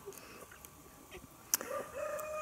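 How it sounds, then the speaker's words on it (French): A moulting hen wandering in a poultry yard gives soft, scattered clucks, faint and intermittent over a quiet outdoor background, with a sharp click and a brief higher call near the end. "j'ai une poule en mue qui se promène devant"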